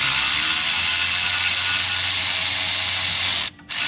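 A ratchet wrench clicks rapidly and continuously while tightening exhaust manifold bolts on a Chevrolet, a loud, close, dense run of clicks that stops briefly near the end before resuming.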